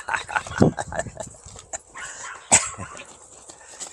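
Several dogs on a walk with puppies bark and yap in short, uneven bursts at close range, with a sharp louder yelp near the end and people talking in between.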